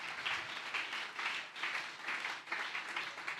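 A church congregation claps in a steady rhythm, with regular bursts of many hands about twice a second. The clapping is faint and distant and sits alone without talk.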